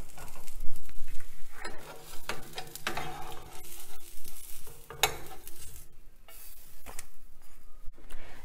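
A sprouts dosa cooks on a stovetop pan with a steady sizzle of frying batter, joined by occasional scraping and tapping from a utensil, nearby and without speech.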